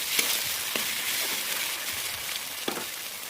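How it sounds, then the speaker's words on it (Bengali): Ginger-garlic paste frying in oil for a Bengali mutton and potato curry, a steady broadband sizzle close up with occasional stirring scrapes, no voices. "আদা রসুন আমার ভাজা হয়ে গেছে"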